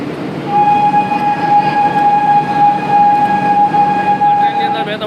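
The Jamnagar–Vadodara Intercity SF Express pulls away with a steady, loud rumble, while a long sustained horn tone rings clearly over it for several seconds.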